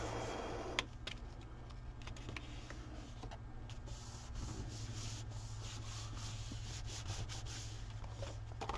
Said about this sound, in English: And give it a good rub.